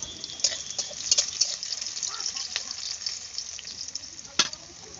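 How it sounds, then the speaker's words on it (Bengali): Potatoes fry in hot oil in a pan, a soft steady sizzle with occasional sharp crackles and light clinks of stirring, fairly quiet and close. "এই দেখো, আলু ভাজা হচ্ছে।"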